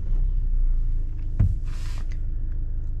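A Kia Seltos 1.5-litre diesel with a 6-speed manual transmission turns over close by with a short burst of cranking, then settles into a steady, low diesel idle rumble.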